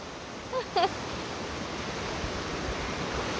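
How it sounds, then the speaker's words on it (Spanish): A river rushing beneath a hanging footbridge at Caquil, Joyabaj, Quiché, a continuous broad roar of flowing water heard from above, with a couple of brief faint chirps or squeaks early on. "Y abajito pasa el río"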